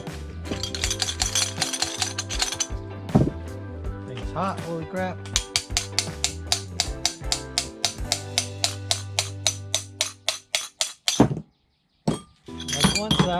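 A hot carrier bearing drops out of an ATV hub with bright metallic clinks and a rapid run of taps and rattles, while someone talks nearby.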